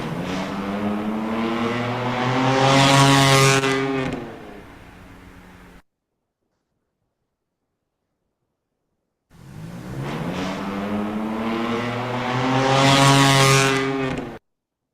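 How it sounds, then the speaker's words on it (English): A loud Dodge Charger roars past a roadside noise camera twice, each pass a rising, revving engine sweep that peaks and then drops away, with a stretch of silence between the two passes. "So this is a Dodge Charger."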